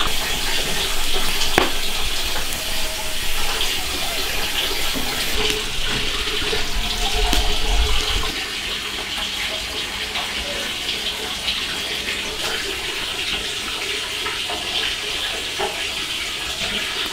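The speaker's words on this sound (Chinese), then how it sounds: "把黄豆泡水。" Tap water gushes steadily into a container to soak soybeans in a rural kitchen, a continuous close rushing hiss that eases slightly in level partway through.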